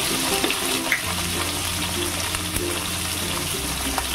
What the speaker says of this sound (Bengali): দিয়ে ভালো করে আমি বাদামি বাদামি করে বেশ ভেজে নেব।